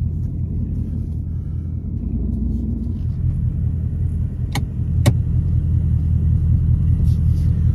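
Two stock Ford Mustangs, a 2024 and a 2020, rumble steadily from inside a car before a roll race, a loud low continuous drone that grows slightly heavier, with a couple of sharp clicks partway through.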